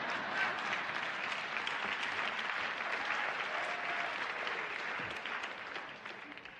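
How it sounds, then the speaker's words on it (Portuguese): An audience at a church sermon gives steady, fairly faint applause that holds evenly before thinning slightly at the end. "Obrigado por essas 5 palmas"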